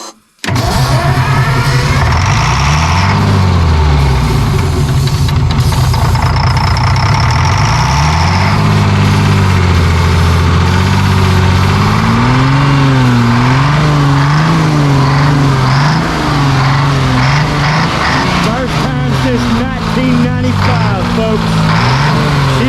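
A 6-71 Detroit Diesel engine cranks, catches and runs, its loud, close, rough idle rising and falling in pitch as the revs change, with a sustained mechanical drone throughout.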